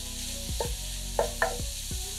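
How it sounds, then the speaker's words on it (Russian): Chopped mushrooms frying over high heat in a hot pan, a steady close sizzle broken by a few scraping stirs of a utensil against the pan. "На горячую сковороду выкладываем нарезанные грибы. Готовим на большом огне, периодически перемешивая до испарения всей жидкости."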